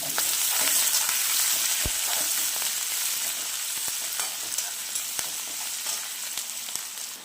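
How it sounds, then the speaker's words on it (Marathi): Curry leaves, chopped onion and green chili frying in hot oil, a steady bright sizzle throughout with occasional soft clicks of stirring, close and fairly loud with no talk. "कढीपत्ता टाकूया यामध्ये कांदा आणि हिरवी मिरची आहे"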